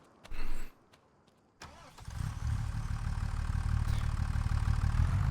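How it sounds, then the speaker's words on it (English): A tractor engine in a farming video game cranks with a short starter burst, then catches and settles into a steady, rumbling idle, close and without talking. "All right, let me bust out the old tractor."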